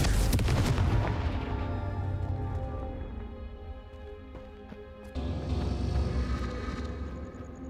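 A Confringo fire spell from Hogwarts Legacy bursts with a loud, booming blast at the start, followed by rumbling debris and scattered crackling impacts that fade, then a second swell of roaring noise near the end, with no talk.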